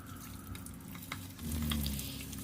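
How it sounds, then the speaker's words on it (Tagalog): Grouper fish deep frying in hot oil, a steady sizzle that grows louder and fuller partway through as the fish settles into the bubbling oil, with no talking. "ipriprito nyo lang po ito or i-deep fry nyo lang po ito hanggang sa maluto ang isda"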